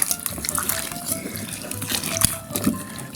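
Boiled water is poured into a vinegar shashlik marinade for meat, a steady close trickle and splash running for a few seconds with no talk over it.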